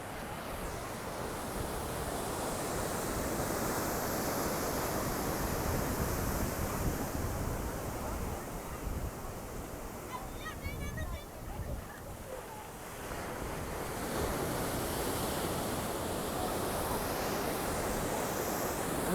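Ocean waves wash steadily against the shore in an open coastal setting, a continuous broad surge with gusts of wind buffeting the microphone, easing briefly near the middle before swelling again.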